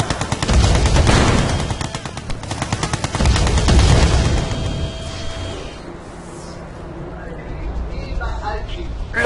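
Rapid gunfire crackles at an ore collector under attack in Red Alert 2: Yuri's Revenge, with bursts of loud shooting and booms fading into quieter game ambience, while a voice speaks over the action.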